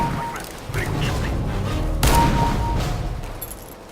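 Gunfire in a CS:GO deathmatch, a video game, with dense overlapping shots and booms, one heavy blast near the middle, under game noise and occasional talk.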